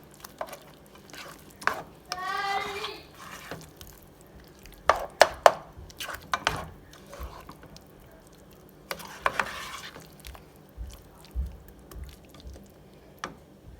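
Shrimp tossed with salt in a pan give scattered wet clicks and scrapes of stirring over roughly fourteen seconds, with a louder sizzling swirl near the start and irregular knocks spread through the rest.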